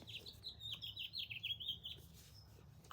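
A small bird chirps repeatedly in a quick series of high, thin tweets, fairly close, indoors against a quiet room background, ending with a brief louder noise.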